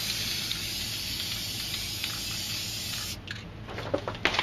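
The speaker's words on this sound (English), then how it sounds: "I'm going to spray some white here." An aerosol spray paint can sprays white paint from a few feet back, giving a steady close hiss for about three seconds, then several short sputtering bursts.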